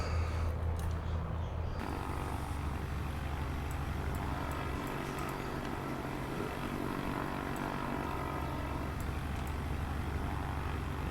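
A propeller airplane's engine drones steadily and loudly while flying low over the Amazon in Microsoft Flight Simulator, a continuous hum with no pauses and no talking.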